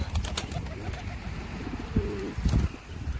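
Pigeons coo in soft, low repeated phrases amid outdoor background noise, with a louder coo burst near the end.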